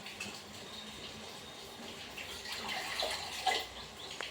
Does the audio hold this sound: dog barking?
no